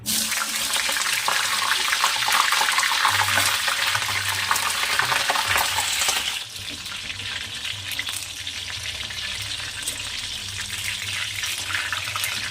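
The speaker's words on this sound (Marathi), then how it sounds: "थोडा कलर येईपर्यंत आपल्याला तळून घ्यायचं आहे" Continuous sizzling of jackfruit pieces frying in hot oil, a steady crackling hiss that eases slightly partway through.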